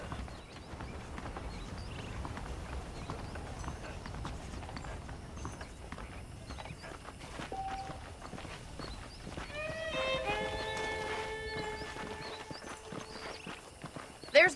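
Saddled horses in Red Dead Redemption clip-clop along at a walking pace, a steady soft patter of hooves under character dialogue, with a brief musical chime partway through.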